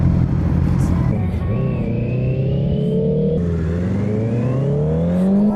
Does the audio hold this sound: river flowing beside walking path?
no